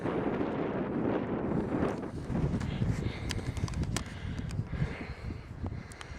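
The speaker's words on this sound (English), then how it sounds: "That's because it's windy." Steady blustery wind buffeting the microphone outdoors on the Quantock Hills, a low rumbling roar with gusts throughout and scattered faint clicks.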